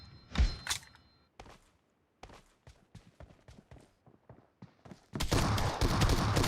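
A video game shotgun is reloaded with a run of short, sharp clacks and thunks, then fires into a loud, dense burst of gunfire that carries to the end.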